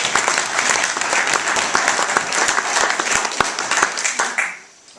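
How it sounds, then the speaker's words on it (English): Wedding guests applaud the bridesmaids at a reception, a loud, full round of clapping from a room of people with some sharper nearby claps, holding steady before cutting off abruptly near the end. "So, round of applause for them as well,"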